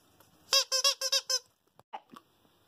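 A squeaky dog toy sounds six quick, loud, high squeaks in a tight burst, followed by a few softer scattered squeaks and a faint rustle in a quiet room.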